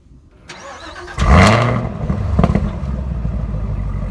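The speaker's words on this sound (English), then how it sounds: "what does a 650 horsepower V8 sound like?" A 650 horsepower V8 in a Camaro ZL1 fires up with a loud, sharp starter crank and bark, revving briefly before settling into a deep, rumbling idle close by.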